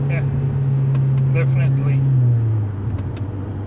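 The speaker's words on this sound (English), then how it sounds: "definitely more sound from the engine." A 2020 Mercedes-AMG CLA 45 S 4MATIC+ engine runs in a steady, low, rumbling drone, close and continuous, easing slightly in pitch near the end.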